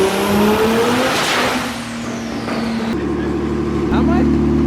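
Turbo BMW E46 M3 screams on a dyno run, a very loud sustained engine roar with rising pitch, a gear-like shift and a brief drop before it pulls again.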